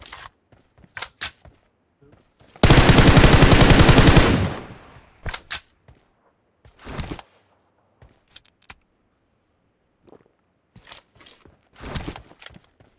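Automatic gunfire in the mobile shooter game PUBG Mobile: one sustained rapid burst of nearly two seconds, loud and close, surrounded by short sharp shots, clicks and footstep-like taps.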